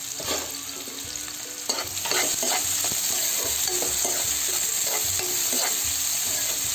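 Onions and curry leaves fry in hot oil for a dry fish curry, giving a steady loud sizzle with intermittent scraping stirs of a spoon against the pan, building slightly after the first two seconds.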